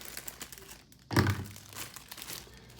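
A block of dry ramen noodles dropped into a plastic rapid ramen microwave cooker: a single crinkly, crunchy thunk in the middle, close and fairly loud, over a quiet room with no talk.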